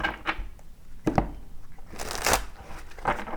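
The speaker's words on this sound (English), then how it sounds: "Get a really good shuffle here for you." Cards being shuffled in a few quick riffling bursts during a tarot reading, close and crisp, with short pauses between them and no talking.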